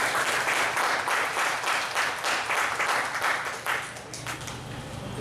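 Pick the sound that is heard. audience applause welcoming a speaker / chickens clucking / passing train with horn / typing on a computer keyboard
audience applause welcoming a speaker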